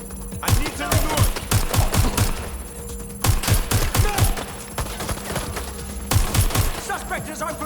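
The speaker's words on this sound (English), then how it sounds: "Suspect has opened fire." Automatic gunfire in the video game Watch Dogs: Legion: loud, close bursts of rapid shots in several rhythmic volleys, with brief pauses between bursts and a steady background drone.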